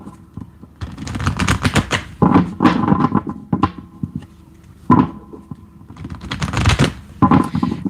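A tarot deck is shuffled by hand in repeated bursts of close, crisp riffling and flapping, separated by short pauses.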